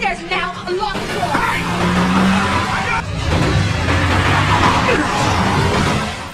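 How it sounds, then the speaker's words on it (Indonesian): A car is driven recklessly in the yard of a house, roaring with skidding, squealing tires, loud and close, mixed with voices shouting over the engine noise. "Lalu tiba-tiba terdengar suara mobil menabrak sesuatu di halaman rumah Will."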